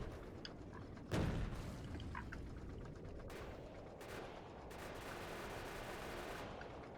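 Tank cannon fire in the game Factorio, a heavy boom near the start followed by a steady rumble of continuous gunfire and explosions throughout, with several sharper blasts later on.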